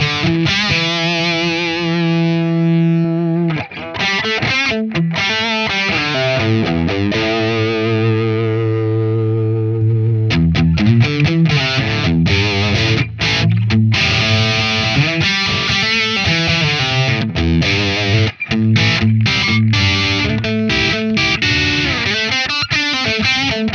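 Distorted electric guitar played through a Celestion speaker impulse response, heavy chugging riffs and sustained chords, loud and alone with no talk.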